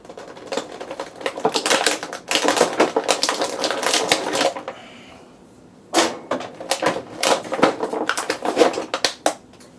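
Blade or cutter slicing through the plastic and cardboard packaging of a DC Comics Icons Darkseid and Grail deluxe action figure two-pack, heard as dense, rapid crackling and scraping bursts with a short quieter pause midway, close and fairly loud.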